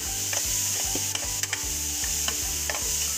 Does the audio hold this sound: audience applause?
no